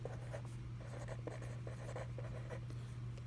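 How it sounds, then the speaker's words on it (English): Hand-writing numbers in word form for a place-value lesson, steady scratchy pen or pencil strokes in short bursts over a constant low hum, close and alone without talk. "So I'm going to write thousands."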